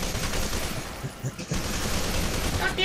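Gunfire in the video game FEAR 2, a dense, continuous rattle of rapid shots with little gap between them, loud and close.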